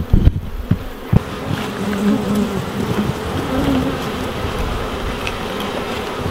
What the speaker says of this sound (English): There's a lot more bees on this hive than there was on the other one